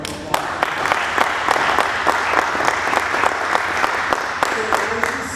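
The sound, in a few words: applause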